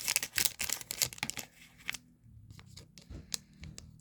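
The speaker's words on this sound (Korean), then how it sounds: "가위를 사용합니다." Scissors cut open a Pokémon card booster pack with a quick series of crisp close snips and crinkles in the first two seconds, then quieter rustling of the foil pack, with no talking.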